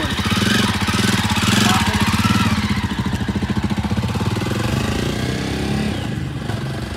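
A 2020 Jawa Perak motorcycle engine running close by as it is ridden, with a rapid, pulsing thrum, loud at first and easing slightly as it settles into a steady putter.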